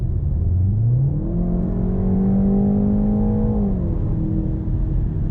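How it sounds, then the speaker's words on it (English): The four-cylinder turbo engine of a 2020 Jaguar E-Pace revs up steadily and loudly under full throttle, its pitch climbing for a few seconds before easing off, heard close from inside the car. "you can hear the engine beginning to work as I dropped the gas pedal to the floor"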